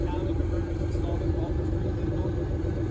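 A Pontiac Fiero mid-engine sports car idles through a Spin Tech muffler, giving a steady, deep exhaust rumble close by with no pauses.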